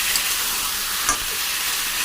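Ground coriander and cumin frying in a pan, a dense continuous sizzle with a faint stir or scrape partway through; no voices.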